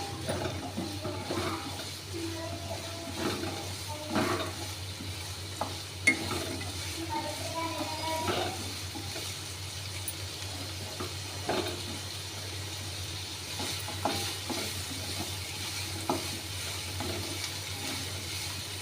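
Egg fried rice ingredients stirred and frying in a pan, with a steady low sizzle and scattered scraping clinks of the spatula recurring throughout, fairly quiet and with no talking.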